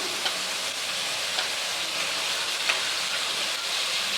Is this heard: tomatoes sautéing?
yes